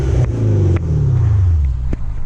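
A 2013 Hyundai Genesis 5.0 R-Spec's V8 engine revs from inside the car, a loud deep rumble rising and settling, with short clicks and rustles over the steady drone.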